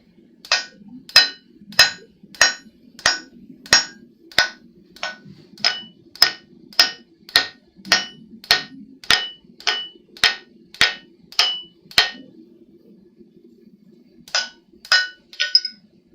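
A hammer forges a san mai deba blade on an anvil with about twenty evenly spaced, ringing metallic clangs. After a short pause, three more strikes follow.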